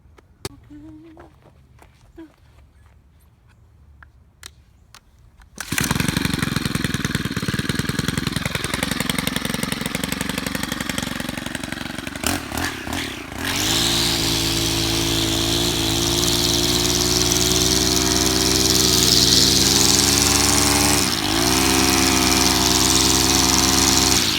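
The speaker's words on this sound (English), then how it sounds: "He's going to weed whack any high spots that are in that area, making sure that the weed whacker is level to where the grass was cut." A gas-powered weed whacker buzzes loud and steady while trimming high spots of freshly cut lawn, its engine revving up and holding a high whine after a quieter start with some speech nearby.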